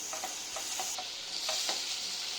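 A tomato mixture is stirred in a sizzling pan, with repeated scraping strokes at an uneven rhythm over a constant moderate frying hiss, no voices.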